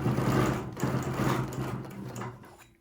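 A sewing machine stitches overall fabric in a steady, close mechanical whir, its hum running continuously before easing off at the end.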